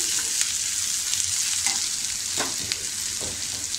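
Onions sautéing in a pan for street-style egg bhurji, cooked until pink, give a steady close sizzle and frying hiss with several brief scraping stirs of a spatula scattered throughout; no one speaks.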